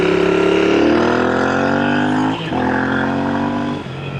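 A Royal Enfield INT650 motorcycle engine revs hard up to the rev limiter, a loud, close, rising roar with brief dips as gears shift, no talk.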